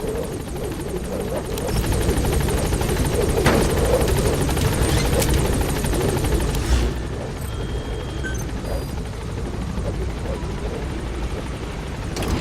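Helicopter lifting off in the video game Metal Gear Solid V: The Phantom Pain, a loud steady rotor roar that rises in intensity and then eases slightly as it gains altitude, with no one talking.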